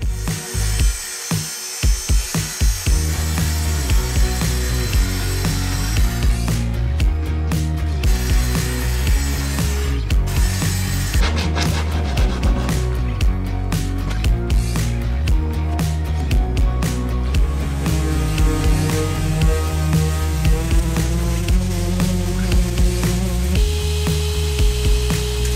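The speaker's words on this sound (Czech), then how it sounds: "Tak jdeme vytáhnout další pilu a jdeme uřezat překližku." Hand sawing through 15 mm plywood while building a large pull-out drawer for a camper van, a loud ongoing series of rhythmic cutting strokes with a brief pause near the start.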